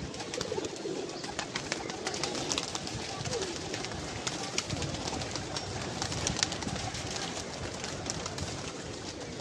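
Pigeons coo softly amid outdoor bustle and a faint voice in the background; the cooing is low and repeated, partly masked by ambient noise.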